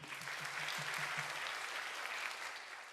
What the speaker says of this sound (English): Let us give us a round of applause to all the distinguished guests for joining us today.